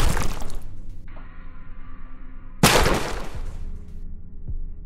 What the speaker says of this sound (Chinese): 对坏人开枪。